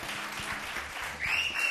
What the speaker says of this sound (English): They clap now.